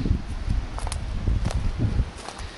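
Wind gusts outdoors beside a narrow stream in floodplain woodland, a loud continuous rushing and buffeting across the whole clip with rustling bursts, no voices.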